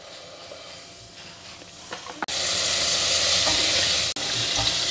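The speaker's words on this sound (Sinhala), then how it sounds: "ඒකට මම බටර් මේසේ හැඳි දෙකක් විතර දා ගන්නවා" Butter melting in a cooking pot previously used for chicken, with a steady, loud broadband sizzle starting partway through and continuing with one brief break, preceded by quieter kitchen clatter.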